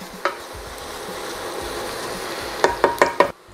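Onions caramelizing with sugar in a pan hiss in a soft steady sizzle, broken by a run of quick scraping knocks as a utensil stirs them, ending abruptly.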